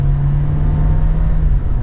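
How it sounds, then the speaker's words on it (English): A 2024 Volkswagen Jetta SE with a turbo four-cylinder pulls hard in second gear with the pedal floored. A loud, steady engine drone with a low tonal hum holds close throughout, with no talking. "we'll put it down into second gear and give it another acceleration. So pedal to the floor."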